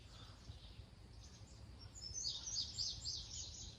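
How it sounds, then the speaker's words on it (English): An indigo bunting sings outdoors near a front porch: a series of faint, high, thin chirps and warbles grows clearer in the second half over a low steady rumble. "That's the indigo bunting. It's a blue bird, very pretty bird."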